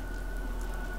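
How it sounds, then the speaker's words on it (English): Steady rain in the Fallout 4 wasteland with the Project Apocalyptic Commonwealth mod, a soft continuous patter with a faint electronic hum beneath it, brief and without speech. "Now it's raining again."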